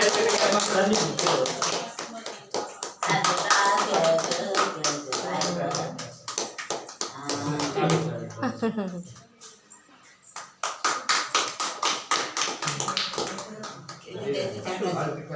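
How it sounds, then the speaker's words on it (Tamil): Hands clap in bursts at a first-birthday celebration held at an elders' charitable trust during a food donation, the sharp rhythmic claps loud and close, with talk running over them and a pause midway. "கை தட்டு, கை தட்டுங்க."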